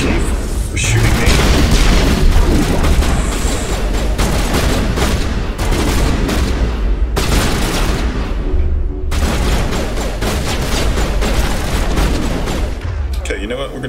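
Mass Effect Legendary Edition combat with dense, continuous gunfire and booming impacts, loud and near throughout, with brief gaps, under a voice speaking.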